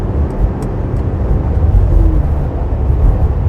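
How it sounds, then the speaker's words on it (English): Steady broadband rush of wind and road noise inside a 2025 Mercedes-Benz G550 cruising in traffic, a continuous low roar with no talking. "I can start hearing a little bit of that wind noise."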